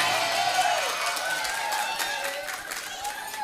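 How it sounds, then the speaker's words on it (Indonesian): Audience applause during a humorous Islamic sermon, a steady wash of many hands clapping and crowd noise with voices mixed in, fading slightly toward the end. "Lu ngapain tepuk tangan?"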